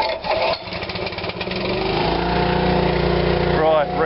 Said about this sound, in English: So I'll just start the motor up and jack her up first.